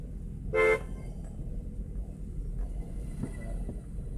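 A single short car horn toot sounds from nearby traffic in a narrow lane, over a constant low engine rumble from a vehicle during a driving lesson.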